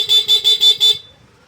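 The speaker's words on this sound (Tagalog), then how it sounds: "stock horn" Stock horn on a Yamaha NMAX V2 ABS TCS scooter, sounded in five quick, evenly spaced beeps, loud and close, with a bright tinny tone, followed by quiet.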